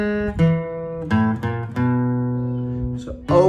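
A blues riff on a slide guitar, moving between open and fretted strings, sounds as sustained twangy notes that glide and bend between pitches with a few picked attacks, close and clear and played alone.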